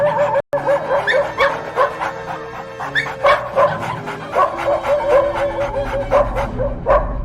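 Several dogs barking loudly and repeatedly in a rapid, overlapping stream of sharp yips and barks, close and agitated, with some whimpering mixed in.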